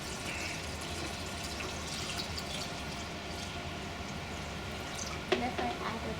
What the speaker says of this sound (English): Now I add the salty water.